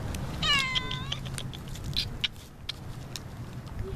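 A cat meows once with a clear, wavering cry near the start, close and moderately loud over a faint background hum, followed by a few small clicks and taps.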